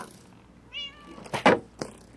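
A cat meows in a video game with a village under attack, a short rising meow followed by louder, harsher cries and a final brief yowl, heard alone and close.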